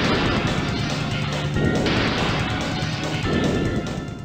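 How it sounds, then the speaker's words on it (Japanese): Window glass smashing as a Cerberus zombie dog bursts through into a ground-floor hospital corridor in a Resident Evil game: a loud, dense crash with debris, thickly layered under a tense musical score. "病館1階の東側廊下を移動していると、窓ガラスを割ってケルベロスが侵入してくるぞ。"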